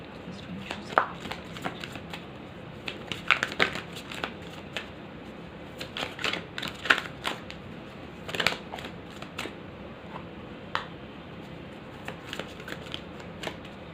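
Tarot cards are shuffled and drawn by hand, giving a quiet run of crisp riffles and snapping flicks in irregular bursts against a soft background.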